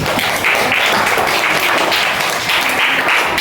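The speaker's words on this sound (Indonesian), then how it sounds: "tepuk tangan buat Putri" Steady applause from a classroom of students, dense clapping at an even loudness from start to finish.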